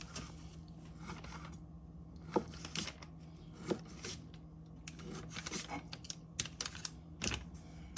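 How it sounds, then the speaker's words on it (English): A knife cuts salmon into 1-inch pieces on a board. Irregular, close, quiet taps and slicing clicks are heard over a faint steady hum, with no talking. "I'm gonna cut it in half again and cut them into those 1-inch pieces"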